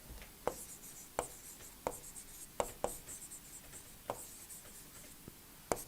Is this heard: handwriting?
yes